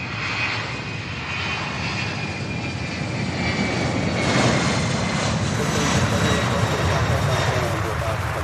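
Airliner taking off at Louisville's SDF airport, a sustained loud jet engine roar that stays steady and grows slightly, heard from outdoors at a distance with a person talking over it.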